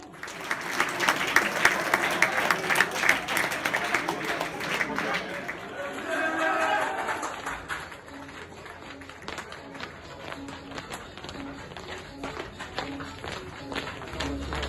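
Spectators applaud as the Nantes under-18 football team, dressed all in yellow, enters the pitch, clapping and crowd noise loud at first, then settling into softer scattered applause with chatter and an announcer's voice.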